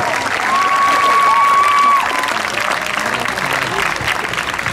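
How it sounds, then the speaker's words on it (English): An outdoor rally crowd in Novato applauds and cheers for a speaker named Patty, steady loud clapping mixed with a few whoops and a brief sustained whistle-like tone early on. "Can we get a big round of applause for Patty?"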